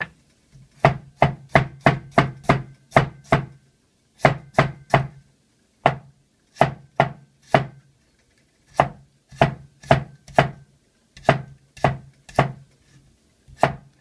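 A knife chops through a carrot on a cutting board in quick bursts of sharp, close knocks, several rapid strikes at a time separated by short pauses.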